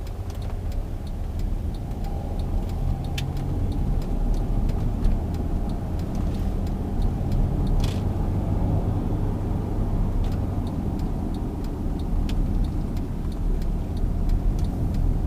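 A 2010 Mercedes-Benz ML350 CDI diesel pulling steadily under acceleration, a low continuous engine and road rumble heard from inside the cabin with faint ticking over it and no talking.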